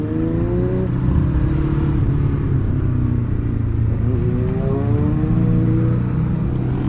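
A Ducati Hypermotard motorcycle engine drones loudly and steadily while the bike is ridden, and its pitch rises and falls with the throttle under constant wind rumble.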